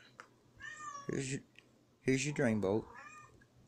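A cat meows loudly and close by, about three drawn-out cries, while someone talks during an oil change involving a magnetic drain bolt.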